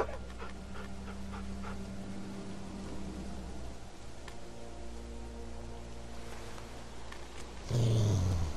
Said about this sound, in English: Oh my god, it's a doggie!